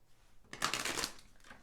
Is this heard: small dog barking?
no